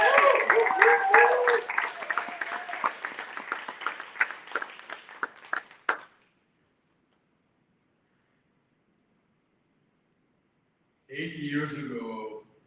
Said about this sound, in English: please give a warm round of applause for Jose Pradhan